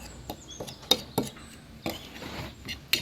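A spoon stirs garlic, onion powder, paprika and black pepper together in a bowl, giving sparse light clinks and scrapes against the dish, quiet and close.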